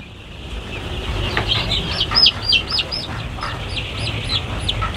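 High-pitched peeping and clucking of young chicks, repeated calls over a low background rumble.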